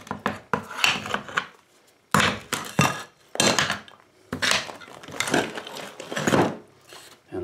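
Wet, water-soaked sheetrock is pulled and broken off a shower wall in bursts, scraping, cracking and crunching chunks with short pauses between efforts.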